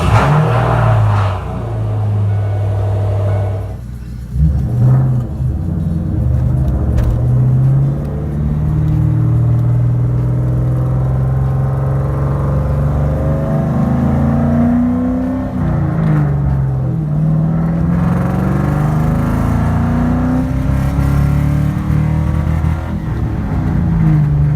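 Engine of a 1996 Ford Mustang Cobra with new plugs cranking, firing up and revving, a loud close rumbling idle with several rising and falling revs over about twenty-five seconds, no talk.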